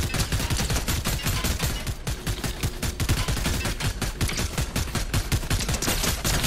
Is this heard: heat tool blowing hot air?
no